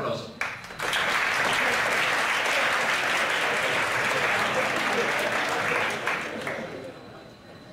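An audience at a 2019 game development event breaks into loud, sustained applause for a speaker, swelling quickly after a brief spoken introduction and then fading toward the end.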